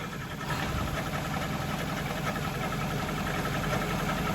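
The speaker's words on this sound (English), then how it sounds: "I think this noise is coming from the transmission." Transmission noise from underneath a car with the engine running, heard from close below as a continuous low mechanical drone and hum with slight rhythmic rattle, steady and moderately quiet, with no talking.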